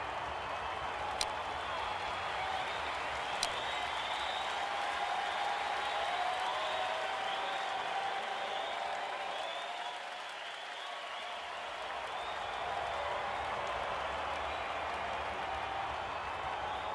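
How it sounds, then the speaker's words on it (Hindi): Sustained applause from a large stadium crowd at an IPL cricket match, a steady dense roar of clapping and cheering that dips briefly midway before swelling again. "ऐसी गेंद पर सिर्फ तालियां मिलती है।"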